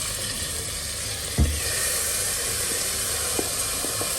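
Beef simmering in olive oil in a pan, a steady close sizzle and hiss with a single knock early on and a few faint clicks, no voices.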